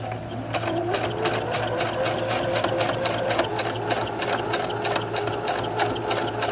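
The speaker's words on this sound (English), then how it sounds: "this stitch closes that opening" A sewing machine stitching a pocket flap on a Star Wars jumpsuit, running steadily and loudly throughout with a rapid even needle rhythm and a constant motor hum, no talking.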